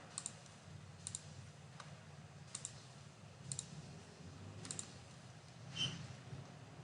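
Quiet computer mouse clicks sound in a sparse, irregular series of about seven sharp ticks over faint room hiss, close and soft, with no talking.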